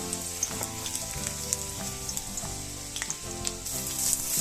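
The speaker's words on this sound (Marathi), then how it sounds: "आपलं तेल गरम झालंय, आपण लसूण होऊ देऊ छान" Garlic fries in hot oil over a high gas flame for veg Manchurian, giving a steady, close crackling sizzle with small pops throughout.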